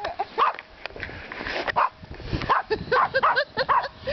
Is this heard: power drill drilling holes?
no